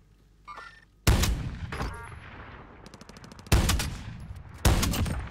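Gunfire in Call of Duty Warzone: three loud, sharp shots spaced a couple of seconds apart, each with a ringing tail, plus a quick rattle of smaller rapid fire between them.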